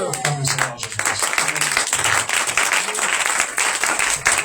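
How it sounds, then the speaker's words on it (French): A church congregation at a Passover service claps and applauds, a mid-level burst of scattered hand claps and crowd noise, with a voice briefly audible over it. "Acclame le Seigneur Jésus-Christ."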